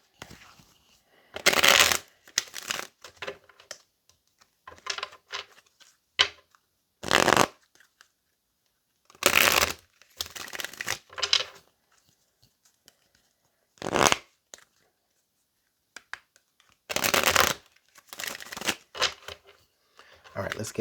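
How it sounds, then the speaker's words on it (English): Tarot cards are shuffled in repeated bursts of riffling and slapping, close and crisp, with quiet gaps between handfuls and some talk in places. "let's continue to shuffle here"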